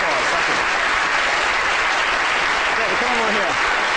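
A lecture audience keeps up loud, dense applause, a steady wash of clapping with a voice faintly speaking underneath partway through.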